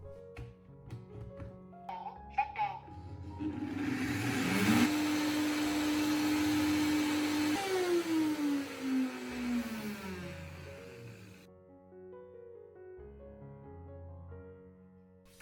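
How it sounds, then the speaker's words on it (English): A blender or spice grinder whirs loudly, grinding dried ginger pulp into a fine powder. The motor spins up, holds a steady roar with a falling pitch sweep, then cuts off, with quieter clinks and handling before and after. "place it into a blender or spice grinder and blend until it becomes a fine powder"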